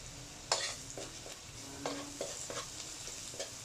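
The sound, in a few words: garlic sautéing in a pan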